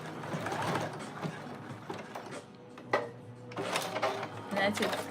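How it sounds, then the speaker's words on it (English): A sewing machine attaches a button with a mechanical whir and clicking at a moderate level, while a person talks over it for most of the time. "it's much cleaner when the machine does the button than when I do it"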